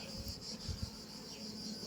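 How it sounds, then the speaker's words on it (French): A honeybee attacks a beekeeper's glove while trying to sting it, making a close, steady angry buzz with slight rubbing scratches underneath, alone. "une abeille qui essaye de piquer, qui attaque pour défendre sa ruche"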